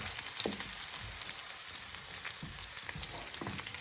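Hutsul banosh, cornmeal porridge with added milk, being stirred in a pan: a steady bubbling sizzle close by with repeated soft scraping strokes of the spoon.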